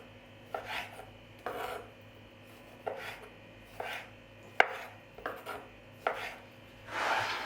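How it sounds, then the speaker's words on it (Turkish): A knife cuts cherry tomatoes into halves and quarters on a board, making about eight crisp, evenly spaced chops that end in a longer scraping slice. "Küçük çeri domateslerinde şöyle ikiye dörde bölüp e, kesiyorum."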